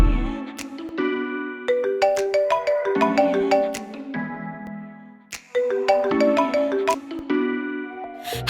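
A phone ringtone plays loudly in a repeating melodic pattern of bright chiming notes, two phrases in a row with a short break between, no voices over it.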